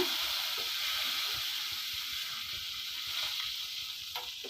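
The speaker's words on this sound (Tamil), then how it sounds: "எல்லாமே போட்டு நல்லா ஒரு வதக்கு வதக்கிடுங்க" Crushed garlic and curry leaves sauté in a hot pan with a steady, close sizzle and faint crackle, with no talking.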